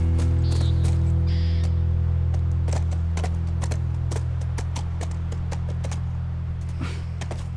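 Horse hooves clip-clop on the ground in The Last of Us Remastered, a near, irregular run of hoof knocks over a steady low hum.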